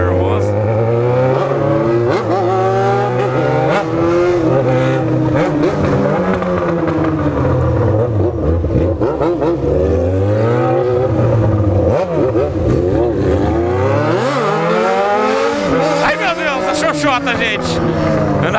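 A Yamaha XJ6 motorcycle revs hard and continuously, the engine pitch sweeping up and down through repeated throttle blips and gear changes, loud and close throughout.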